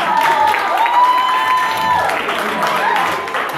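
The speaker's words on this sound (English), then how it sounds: "Ladies and gentlemen, give them a round of applause" An audience applauds at a community college event, a steady dense clapping wash with some crowd noise and a sustained tone running underneath for the whole stretch.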